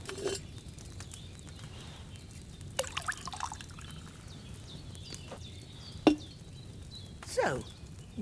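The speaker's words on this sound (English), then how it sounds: "First, you have to pour the right base into the cauldron." Wine poured from a pitcher into a cauldron in Kingdom Come Deliverance 2, soft trickling and dripping liquid with scattered splashes and clinks, fairly quiet and close, no speech.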